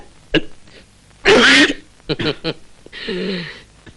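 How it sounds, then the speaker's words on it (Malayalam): One loud, harsh cough bursts out between short throat sounds and brief vocal noises, close to the microphone. "ഒരിക്കൽ കൂടി ചുമക്കൂ"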